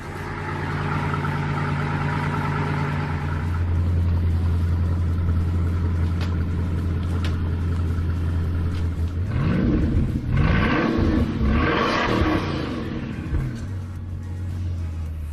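A Ferrari 6.5-litre V12 engine idles with a steady low drone, then revs sharply twice in quick succession, the pitch sweeping up and falling back, before settling to idle again, close and loud with no voices.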